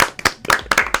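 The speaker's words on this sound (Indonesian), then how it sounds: "tepuk tangan dulu dong buat kita semua" A small group claps together, a quick run of sharp, close hand claps lasting about a second, loud and without voices.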